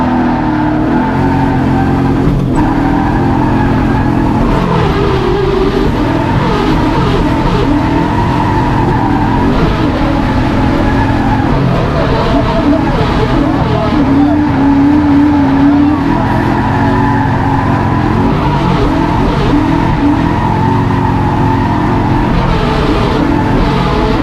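A BMW E36 driven hard, its engine droning loud and steady from up close with bursts of revving and intermittent tire squeal running through the whole stretch.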